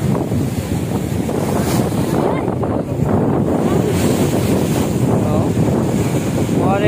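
Ocean waves wash steadily against a rocky beach while strong wind buffets the microphone, a continuous loud roar with a few short spoken exclamations.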